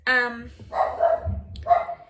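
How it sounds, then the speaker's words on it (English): Dogs barking outdoors, a near, loud bark with harmonic yelps at the start, followed by someone talking over more distant barking. "dogs are barking"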